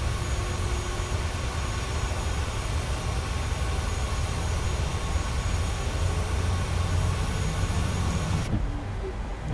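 An aircraft auxiliary power unit running in Microsoft Flight Simulator 2020, a steady loud broadband roar with a constant whine that holds evenly throughout and cuts off sharply near the end, with no voices.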